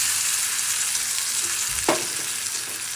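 Pre-fried moong dal and moringa drumsticks go into hot oil with spices, giving a continuous loud sizzle with a single dull thump as they land, and the frying carries on steadily afterward.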